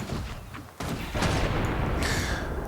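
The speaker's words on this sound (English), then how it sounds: "So that was the bombs" Engineer bombs exploding in the video game Guild Wars 2: a sharp blast followed by a heavier, sustained rumble of detonations and crackling debris, loud and close.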